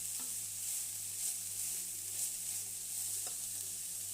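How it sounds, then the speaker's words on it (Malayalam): Cabbage mixture for cabbage thoran being stirred in hot oil with mustard seeds, giving a steady, even sizzle with a few soft scraping touches throughout. "എല്ലാം കൂടി ഒന്ന് ഇളക്കാം"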